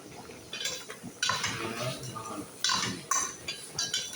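A spoon scrapes and clinks against a metal cooking pot while tinola is stirred, in irregular close knocks and rattles with a faint voice in the background.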